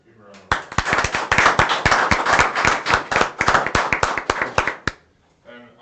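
A round of applause at a county board of supervisors meeting: a small group claps crisply for about four seconds, then it fades as a voice resumes.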